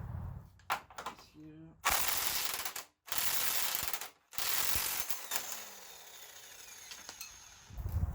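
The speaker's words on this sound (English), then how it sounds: "Now we'll just get a wrench on the one side." Ratcheting clicks and metallic clanks from a wrench loosening a bolt on a Jeep YJ frame, coming in short bursts separated by gaps and broken by louder bursts of broadband noise.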